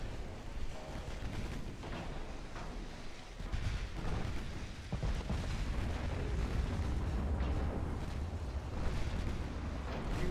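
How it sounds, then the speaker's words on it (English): Shell hits on a heavy cruiser in a naval warfare game land as low, rumbling artillery booms and blasts, rolling on fairly faint and continuous with heavier thuds partway through. "Big hit on the heavy cruiser again."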